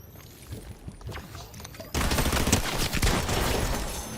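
Pump shotgun fire in the video game Fortnite: scattered shots at first, then a sudden loud, dense barrage of blasts and impacts in a match, with a player's voice briefly heard.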